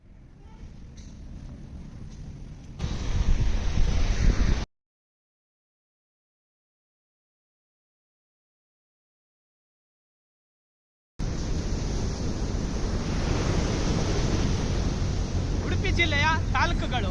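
Souparnika River in Kundapura, Udupi district, flowing as a steady broadband rush heard in two stretches, a short burst then a longer one, separated by several seconds of complete silence.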